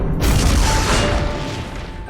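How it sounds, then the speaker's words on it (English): A massive fiery explosion from a flame sorcerer's skill in the Exos Heroes game, a loud, broad roaring boom that swells within the first half second and then slowly rumbles and fades away. "Massive Explosion."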